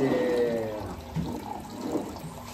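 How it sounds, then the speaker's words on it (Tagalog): Water pours into pandesal dough mixture as a soft, close gurgling and splashing stream that fades over a couple of seconds. "Lagyan natin ng tubig mga guys."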